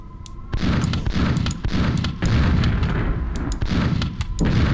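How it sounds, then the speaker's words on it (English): Radioactive containers blown up in the shooter game Aftershock, giving a loud, dense run of booming blasts and rumbling bursts that sound close and follow one another with almost no gap. "I can actually blow up these radioactive containers a bit"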